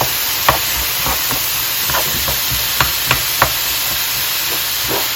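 Pre-chopped onions hiss and sizzle steadily in a hot pan, broken by a few sharp scrapes and clacks as they are stirred.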